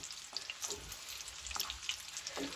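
Chicken mince balls fry in shallow oil in a pan, giving a steady, soft sizzle with faint crackles and occasional stirring as they are turned, and no voices.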